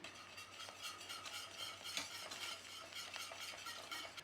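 Cheese is stirred into a thick sauce in a pan, with soft repeated scraping and sloshing strokes in an even rhythm, close but quiet, with no talking.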